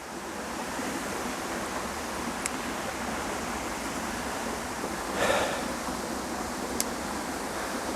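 Black Brook, a small stream near Scammonden, flows with a steady, even wash of water noise, moderately near, with a brief louder splash midway.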